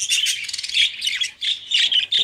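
Many Australian parakeets (budgerigars) in an aviary of chicks and a violet pair chatter and chirp continuously, a dense, close, loud warble with rapid overlapping tweets and no pauses.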